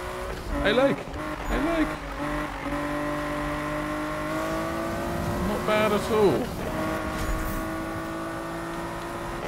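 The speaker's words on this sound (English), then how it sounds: "The R34 sounds like a real R34." Nissan Skyline R34 engine in the video game Need for Speed 2015, revving up and down through gear changes with rising and falling tones and occasional tire squeal, someone briefly talking over it.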